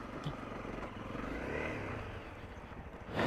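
A Honda CRF250L dirt bike revs hard while its rear wheel spins on a steep hill climb, a loud, sustained engine roar with rough clattering texture and a surge at the end.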